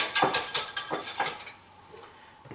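A sanitized whisk clatters against a bowl while mixing a fig mead mixture, giving a quick run of clinking metal strokes up close that fade out after about a second and a half into near quiet.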